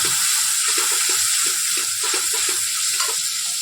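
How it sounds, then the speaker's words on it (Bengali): Masala for mutton biryani fries in a pan with a loud, close, continuous sizzle while it is stirred in soft repeated scraping strokes. "সব দিয়ে ভালো করে মশলাটা কষাতে হবে।"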